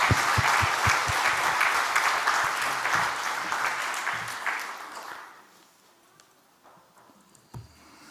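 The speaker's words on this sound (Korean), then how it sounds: "우리의 찬양을 받으실 하나님께 영광의 박수를 드릴까요?" A church congregation claps together in praise to God, steady rhythmic applause that is loud at first, then tapers off after about five seconds into near quiet with a few stray sounds.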